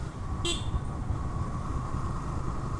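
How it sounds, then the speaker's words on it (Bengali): A single short vehicle horn toot sounds briefly on a rural road near Kurigram, Bangladesh, over a steady rumble of road and engine noise from a moving vehicle. "প্রচুর হর্ন দেওয়া লাগতেছে"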